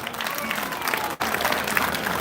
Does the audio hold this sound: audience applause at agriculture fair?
yes